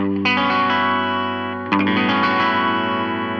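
Two strummed seven-string guitar chords ring out with a shimmering chorus and slight echo, the second strum about a second and a half after the first, sustaining richly.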